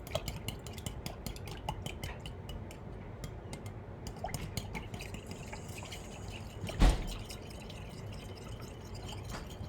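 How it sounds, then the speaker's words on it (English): A spoon stirs instant mashed potato ingredients in a bowl, giving faint, irregular clinks and ticks with a soft wet slosh and one sharper knock partway through, no voices. "mix all these ingredients together with the spoon"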